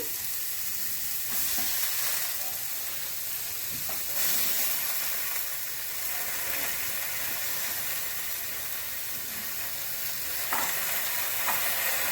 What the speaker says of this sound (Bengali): এবার আমি পালং শাকগুলো দিচ্ছি।